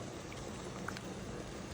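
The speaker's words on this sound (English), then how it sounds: "So now it's boiling." Steady, dense bubbling and hiss of water at a rolling boil in a pot, close by and continuous, with a few faint clinks.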